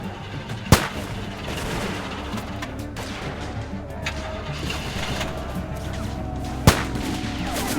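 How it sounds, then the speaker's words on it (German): Two sharp, loud gunshots from Telltale's The Walking Dead Season 1, spaced about six seconds apart over quiet game ambience with muffled voices in the background. "Mann, war das ein Präzisionsschuss."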